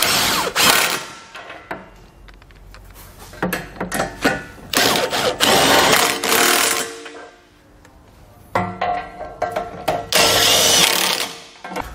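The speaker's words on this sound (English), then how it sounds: "We can now tighten our nuts back down using our 18 millimeter socket again." Power tool with an 18 mm socket tightening nuts while refitting a hidden hitch receiver on a 2019 BMW X3: loud, close bursts of rattling impact whirring, broken by short pauses.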